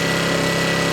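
A Hyundai HY1000Si portable generator's small engine runs at a steady idle with no load, a constant close mechanical drone and no talking.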